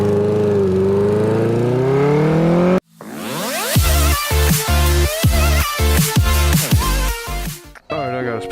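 A rebuilt 1980 Honda CB900C motorcycle engine fires up loud and close, with rising revs and a throaty, uneven idle that pulses and drops briefly, following a smooth tonal sweep at the start.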